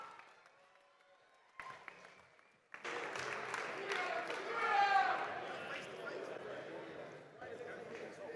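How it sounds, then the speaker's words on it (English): Arena crowd at a boxing weigh-in at the Footprint Center in Phoenix, a loud sustained roar of cheers and claps that swells and holds after a quieter announcer-led opening with amplified talk. "That crowd inside the Footprint Center making noise for Jaime Munguía, John Ryder."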